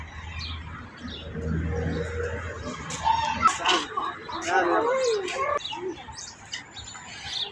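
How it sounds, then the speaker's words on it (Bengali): Pigeons coo and birds chirp in the background at Riyadh Zoo while people talk nearby. "কবুতর"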